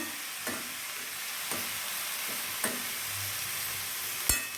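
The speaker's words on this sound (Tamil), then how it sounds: "நல்லா வதங்கட்டும்" Radish for chutney sautéing in a pan, a soft continuous sizzle broken by a few distinct scrapes or taps of a spatula, close and fairly quiet with no voices.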